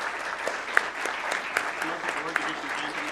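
A school board meeting audience applauds award-winning students, a moderately quiet, steady spread of clapping from a seated crowd with a few louder individual claps and some voices mixed in.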